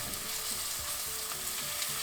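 Garlic crackles and sizzles continuously in hot olive oil in a pan up close, off the heat, a soft, busy frying hiss with scattered pops.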